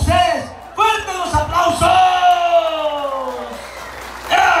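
A crowd at the inauguration of a block factory in San Juan Colorado, Oaxaca, applauds and whoops loudly while an announcer shouts excitedly over the noise, with bursts of cheering rising and falling.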